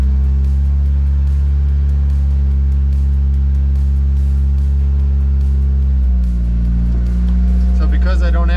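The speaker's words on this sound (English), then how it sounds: "Now we're gonna start the car up, let it warm up" A turbocharged Mazda Miata engine idles loudly and steadily up close, with a deep, even rumble that shifts pitch slightly partway through as it settles.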